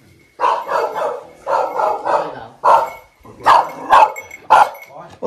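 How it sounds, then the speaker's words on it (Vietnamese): A dog barks at a rural family home in Vietnam, close to the listener. Short bursts of loud, repeated barks come in quick groups, with brief pauses between them. "chó sủa gì ấy?"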